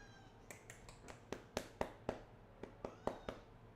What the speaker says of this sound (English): And my cat's yelling at me.